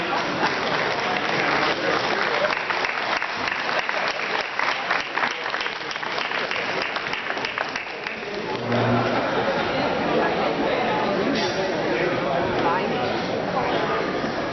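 An audience applauds a retiring woman named Amanda as she is welcomed onto the stage, a dense, continuous clapping that dips briefly midway before swelling again, with voices mixed in.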